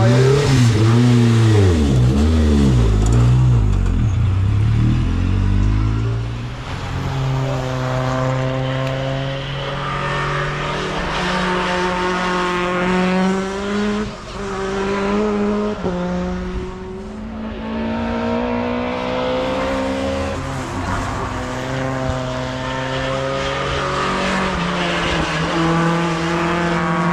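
A Ford Escort MK2 Warrior rally car on wet tyres at Castle Combe, its engine revving hard and rising and falling through the gears, loud and near, with sweeping pitch changes as it drifts past.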